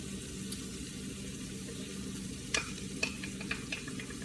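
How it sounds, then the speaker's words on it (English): Diced fresh mushrooms hit a pan and are stirred with a wooden spoon, giving a soft steady sizzle with a few sharp scrapes and clacks near the end, close and fairly quiet. "now we're going to add in our diced up mushrooms"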